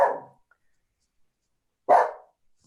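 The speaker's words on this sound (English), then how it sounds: "And there's still a dog barking in the background." A dog barks twice in the background, one bark at the start and another about two seconds later, each short and fairly loud, separated by silence, with no talking.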